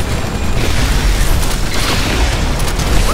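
A big explosion in the Xbox One shooter Titanfall, played in a Domination match, with a dense, loud boom and rumble filling the whole stretch, followed by a roaring wash of debris and noise that never settles.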